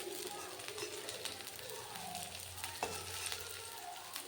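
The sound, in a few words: papaya fritters frying in a little mustard oil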